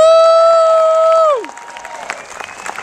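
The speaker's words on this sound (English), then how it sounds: "Can we get a round of applause for all the speakers that have been here?" A rally crowd at a Tea Party event in Tucson in 2011, heard after a sustained tone cuts off, with scattered clapping, shouts and cheering building up at moderate distance.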